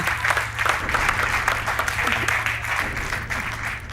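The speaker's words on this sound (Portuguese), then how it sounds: "Um aplauso para ele!" Studio audience applause for contestant Eduardo on a Portuguese TV quiz show: dense, sustained clapping over a low, steady background hum, with no clear break throughout.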